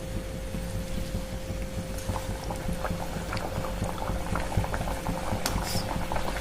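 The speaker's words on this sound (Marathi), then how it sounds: "आता तुम्ही बघू शकता आपलं तेल ही छान असं गरम झालंय. असं तळलेलं वरती आल्यानंतर आपण आता पुरी टाकूया." Spicy salted puri dough frying in hot oil, a steady close bubbling sizzle with faint crackles and a constant hum underneath, no talking.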